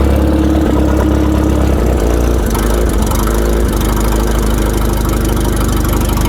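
A car engine runs steadily at idle with a timing light clipped onto a spark plug lead, a loud continuous rumble with a faint rhythmic ticking and no speech.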